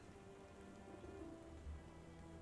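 Steady rain falls across a foggy London street in the Sherlock Holmes: The Awakened video game, a continuous soft patter with faint low rumbles underneath and no voices.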